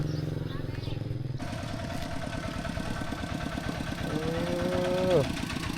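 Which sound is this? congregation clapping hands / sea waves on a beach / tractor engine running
tractor engine running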